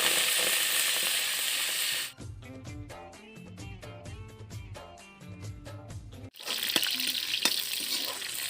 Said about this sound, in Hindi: तेल गरम हो गया, अब जीरा डाल देबो, मेथी डाल देबो